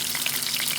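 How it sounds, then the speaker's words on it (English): Salmon steak frying skin-side down in a hot pan gives a dense, steady crackling sizzle, close and continuous for a brief moment with no voices. "I'm going to put the skin on first. And then we fry it"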